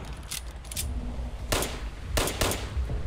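Gunfire in Fallout 76 multiplayer: a few separate sharp bursts of shots ring out against a low background hum, with pauses between volleys.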